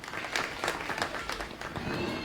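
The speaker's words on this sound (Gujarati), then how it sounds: "ખૂબ બધી તાળીઓથી આ સન્માનને પણ આપણે વધાવી લઈએ." Applause from the audience at a felicitation ceremony held at a cow shelter, a steady moderate patter of many hands with sharper individual claps standing out throughout.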